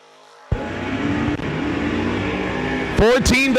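S10 pickup truck and a 1990 Oldsmobile launching in a drag race, an engine roar that bursts in abruptly and holds steady and loud, with a higher revving surge near the end and speech heard in places.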